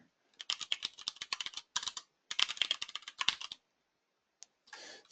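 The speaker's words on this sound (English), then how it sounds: "I'm going to type this on Notepad so it's bigger." Fingers tap quickly on a computer keyboard while typing in Notepad, in short bursts of clicky keystrokes separated by brief pauses, close and crisp, ending with a softer rattle.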